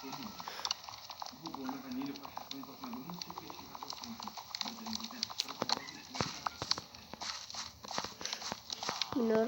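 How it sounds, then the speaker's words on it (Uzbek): Several horses walk around nearby, their hooves clip-clopping in an uneven, overlapping rhythm over steady outdoor background noise. "Shuning uchun atrofda otlar ko'p"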